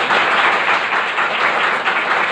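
Loud, dense applause from a church congregation, many hands clapping together without pause for a couple of seconds.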